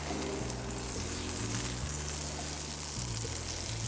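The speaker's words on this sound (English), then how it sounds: "Let's rub a bit of butter on." Butter sizzling on a flat top grill, a steady bright hiss held for several seconds over steady low tones, with no talking.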